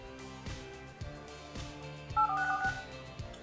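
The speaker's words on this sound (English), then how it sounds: "if you don't want dial-up tones like this" Several electronic keypad tones beep in quick succession, with a soft tap under each press, close and clear with no talking.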